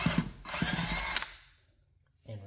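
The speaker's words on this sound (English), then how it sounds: "So I'm just going to use my drill and a long bit here" A power drill fitted with a long bit runs in loud bursts as it backs screws out of the centre piece of a wooden modeling bench, then winds down to near quiet before a short low hum returns.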